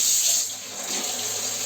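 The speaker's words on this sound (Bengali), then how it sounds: "প্রথমে আপনাদের গরম জলটা চালিয়ে দেখাচ্ছি।" Hot water gushes from a Kamal bathroom wall mixer tap fed by a Kenstar geyser, a close, steady rushing splash that dips briefly and then resumes at full flow.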